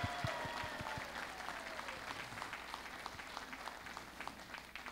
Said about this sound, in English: give it up very largely with a big round of applause for this beautiful assembly